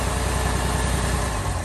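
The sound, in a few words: Jaguar E-Type engine idling after throttle pulled back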